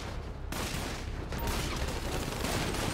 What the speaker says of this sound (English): Somebody got me. Somebody's shooting me.